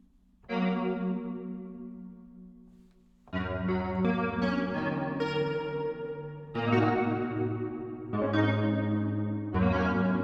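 Sustained synthesizer chords through a granular pitch shifter, with a shimmering, pitch-shifted texture and lush reverb, changing chord every few seconds.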